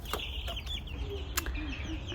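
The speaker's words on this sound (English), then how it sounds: "Yes, you little chirpy thing." Several high, thin chirps from a baby chick on a homestead, scattered irregularly over a low background rumble, close by, with no talking.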